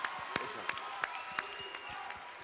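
A television talent-show audience applauds after a band's solo at a live concert, a faint, distant ripple of clapping with sharp individual claps standing out in an irregular rhythm.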